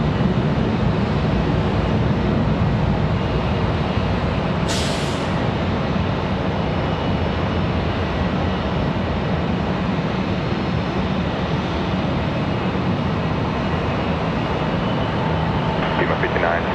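An American Airlines jet departs Charlotte Douglas airport with a loud, continuous broadband engine roar throughout, a brief whoosh in the middle, and a faint radio voice in the background.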